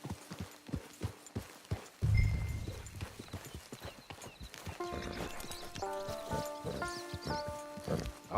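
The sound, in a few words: horse hooves clip-clopping, video game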